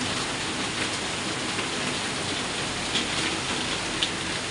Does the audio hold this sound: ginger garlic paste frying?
no